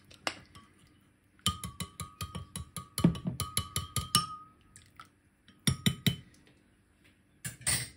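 A spoon clinks against a cup while stirring a drink with half a teaspoon of organic honey, in quick repeated bursts of light metallic taps separated by short pauses.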